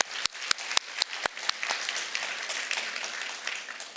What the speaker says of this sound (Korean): 우리 이분들에게 박수를 보냅니다